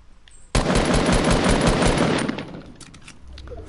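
Video game gunfire, a sudden loud burst of rapid automatic shots that rattles on for about two seconds, then tapers into scattered quieter reports and trailing battle noise, no talk.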